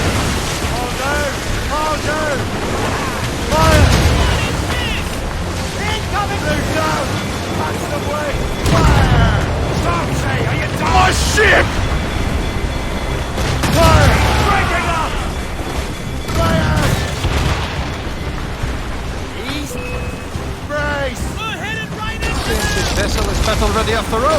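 Ship cannons boom repeatedly during a naval battle in Assassin's Creed Rogue, heavy blasts recurring every few seconds over wind and ocean noise while crew voices shout throughout.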